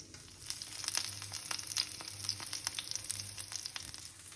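Steady crackling sizzle of chilies and curry leaves frying in hot oil, close and continuous with small popping spatters, no voices.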